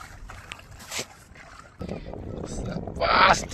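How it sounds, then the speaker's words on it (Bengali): A wooden boat is dragged through shallow water over a sandbar. Splashing and sloshing come in uneven surges along with wind noise on the microphone, and people talk nearby. "এখন নৌকা টেনে টেনে নিয়ে যাচ্ছে।"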